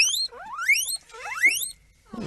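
Two rising, whistle-like squeals, each sweeping upward, followed by a short rough burst; an animal squeak like a guinea pig, close and clear.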